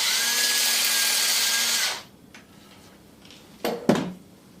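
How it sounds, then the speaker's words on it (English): Tapering machine shaping a bamboo arrow shaft, a loud whirring grind for about two seconds that then stops, followed by a couple of sharp knocks and handling clatter. "You can taper by hand or with a machine. I'll use the machine, mindful for your ears."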